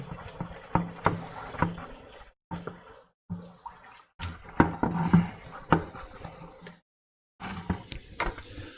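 Soapy water from cleaning up after bottling a homebrew black IPA, dumped onto the floor in bursts of splashing and sloshing with sharp clatters between them, close and fairly loud, broken by short silent gaps.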